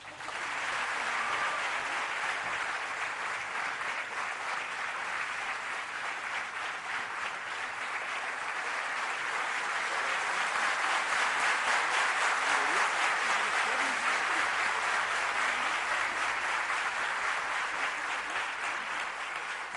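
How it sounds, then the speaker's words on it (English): An audience at a 2014 college function with Dr. A.P.J. Abdul Kalam keeps up sustained, thick applause for nearly twenty seconds. The clapping swells slightly around the middle and stays steady throughout, with no voices on top. "Another round of applause, please."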